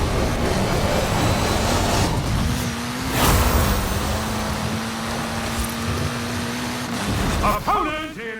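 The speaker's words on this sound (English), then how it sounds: "So I will take this Lamborghini Centenario and head away from where the head-to-heads are taking place" A Lamborghini Centenario supercar in a racing video game drives with a loud, sustained engine roar that holds a steady pitch for several seconds, with mixed game noise around it and a brief burst of rising tones at the end.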